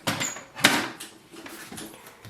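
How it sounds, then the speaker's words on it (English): Plastic back cover of an Epson ET-2720 printer being opened, a few quick clicks and a sharp snap followed by light rattling handling noises. "At the back of the printer, you can just open this section"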